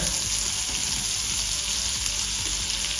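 Beef braciole sears in melted butter in a hot pan, producing a loud, continuous close-up sizzle and crackle that holds steady from start to finish without any talking.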